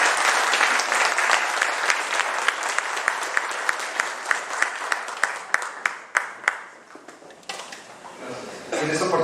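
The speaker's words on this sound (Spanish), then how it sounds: "Entonces les damos un fuerte aplauso, por favor." An audience at a technical conference on nanoparticle measurement equipment gives a round of steady applause that thins into scattered individual claps and fades out over several seconds, heard close and fairly loud.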